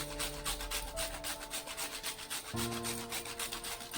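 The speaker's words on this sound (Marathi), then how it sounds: "जायफळ थोडंसं मी त्याच्यामध्ये किसून घेते" Nutmeg grated into a sweet modak filling makes a quick rhythmic rasping rub, repeated strokes in an even pattern, close and quiet, with no voices.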